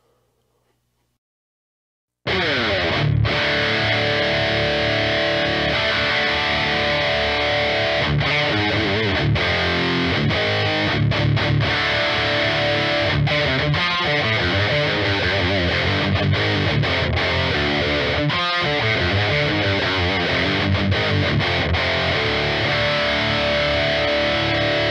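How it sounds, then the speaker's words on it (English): An Epiphone Les Paul Traditional Pro electric guitar rings out through heavy distortion after a brief silence, with chords and riffs played loud and continuous, punctuated by short stops and sustained, saturated notes, and no voices. "Let's go ahead and do distortion and clean and go through all the different switch positions."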